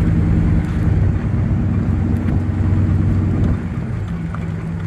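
A car drives along a country road, heard from inside as a steady, loud low rumble of engine and road noise that continues without a break.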